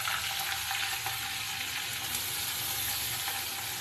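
Onion and garlic paste frying in a pan with already browned onions while being stirred for a crab curry, a loud continuous sizzle close up with no voices.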